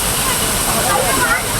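Courtallam's Five Falls pours down as tourists bathe beneath it, a loud, close, continuous rush of falling water with a broad churning roar and no letup, a voice faintly present underneath.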